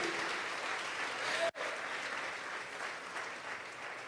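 A church congregation claps in steady applause, a dense and fairly loud patter that holds throughout, broken by one abrupt momentary cut partway through.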